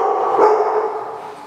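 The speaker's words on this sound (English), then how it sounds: "What are you barking at?" A dog gives a single drawn-out bark that trails into a whining yip, close and loud, with no talking over it.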